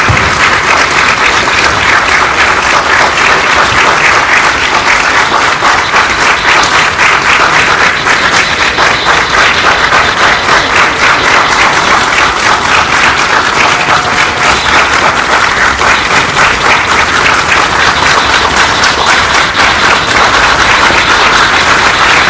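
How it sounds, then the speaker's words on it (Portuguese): A large audience in Brasília keeps up loud, sustained applause and a standing ovation at the end of a lecture. The dense clapping continues without a break for more than twenty seconds. "o pessoal não para de aplaudir"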